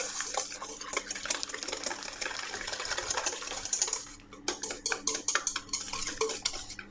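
Whisk stirring a whole egg, two egg yolks and sugar in a bowl for a mandarin flognarde, a steady scraping clatter that turns into quick rhythmic taps toward the end.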